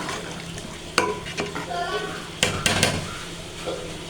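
Water poured into a pan of frying black chickpeas in a home kitchen, setting off a hissing sizzle with a few sharp clatters and stirring scrapes, close and moderately loud.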